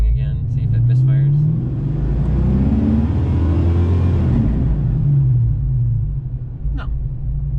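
A car engine revving up to about 4,000 RPM after a TFI ignition module replacement, a loud close rumbling rise that holds steady and then falls back.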